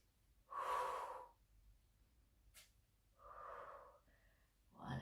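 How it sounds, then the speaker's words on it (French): Slow, audible breaths in and out during a glute-strengthening leg exercise: a long inhale or exhale, a brief sniff, then another breath and a quick final one, close and fairly soft with no talking. "Inspirez, soufflez."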